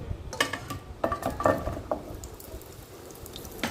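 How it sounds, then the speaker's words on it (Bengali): Whole pointed gourd and potatoes frying in hot oil give a soft, uneven sizzle and patter, with a few clinks of a utensil against the pan near the start. "পটলগুলো আমি দিয়ে দিয়েছি তেলে"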